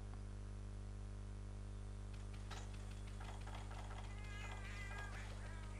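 A cat companion in the Monster Hunter Generations video game meows several times in the second half, short bright calls over a constant low electronic hum.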